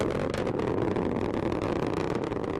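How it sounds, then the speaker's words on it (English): A Delta rocket climbs in flight with its strap-on boosters at full thrust, giving a steady, dense, roaring rumble that stays loud and unbroken throughout. "Strap-on boosters look good in the full thrust mode."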